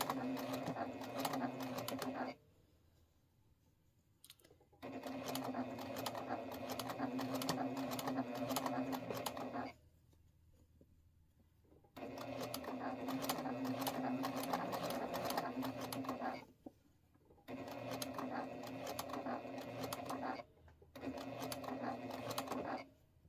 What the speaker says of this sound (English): That's how you sew that curve.